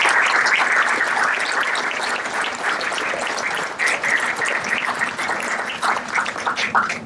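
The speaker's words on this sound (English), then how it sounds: "And you owe a big round of applause and appreciation for what Jack is doing." An audience at a governor's funding announcement for Riverfront Commons applauds, dense steady clapping from many hands, loud and close, tapering slightly midway then swelling again, with no talk.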